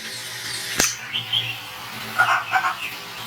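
Young quail chicks at a quail farm give short, scattered chirps, with one sharp click-like burst followed by quieter peeping calls over a low steady background hum.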